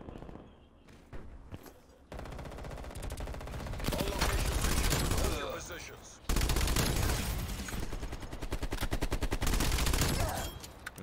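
PPSh-41 submachine gun firing in a video game: long, loud bursts of rapid automatic fire with rattling, dense shots, some quieter pauses and scattered game effects between bursts.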